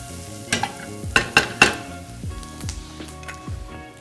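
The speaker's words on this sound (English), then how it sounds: "We just want to cook these until the onions are cooked through." Onions and garlic cook in a pan on an ILVE range as a corn mixture is stirred in, with a few sharp utensil clinks and scrapes over a steady low sizzle.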